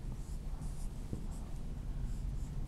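Marker or chalk strokes on a board during a triangle-properties math lesson, a steady scratchy rustle with a brief sharp tap partway through, close and continuous with no talk.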